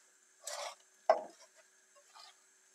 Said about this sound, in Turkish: Şimdi artık ıspanaklarımızı tavaya alabiliriz.